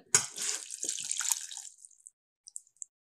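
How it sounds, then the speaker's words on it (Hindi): A cup of water pours into a saucepan for about two seconds, a splashing stream close by, followed by a few faint drips. "और इसमें एक कप पानी ऐड करेंगे"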